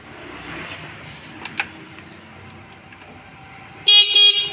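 Horn of an 8-seat Mishuk electric auto-rickshaw sounds twice in short, loud, close bursts near the end, after a stretch of quiet ambient noise.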